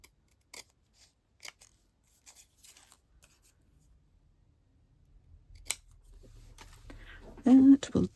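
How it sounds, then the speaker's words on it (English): Crisp snips of large scissors cutting paper for a hinge-lidded gift box, several sharp separate cuts spaced through quiet moments, followed by rustling handling and a person speaking near the end. "I'm going to get my bigger scissors."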